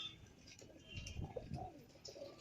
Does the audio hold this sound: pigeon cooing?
yes